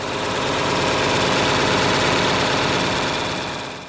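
A John Deere 4020 tractor engine runs at a steady idle, a continuous rumbling drone with a fine knocking pulse, loud and close, fading slightly at the end.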